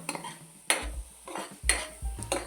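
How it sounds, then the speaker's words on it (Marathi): Khoa (milk solids) being sautéed and stirred in a pan, with a spatula scraping and clinking against the metal in roughly regular strokes about once a second, close and fairly quiet, no talking. "आता ह्याला आणखीन थोडंसं परतून घेऊ"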